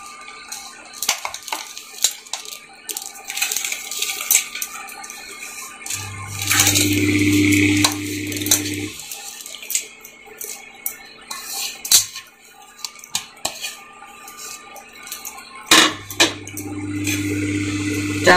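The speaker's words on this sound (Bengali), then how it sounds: "এখন চালটাকে দিয়ে দিব।" Rice goes into a pot of ghee for caramel payesh and gets stirred, a close, loud run of gritty clattering and scraping that continues through most of the clip alongside a steady low hum.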